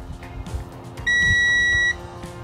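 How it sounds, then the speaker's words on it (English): A single steady electronic multimeter continuity beep with a bright tone lasts just under a second over a quiet room background. "When you find two that are connected, the multimeter will make an audible beep"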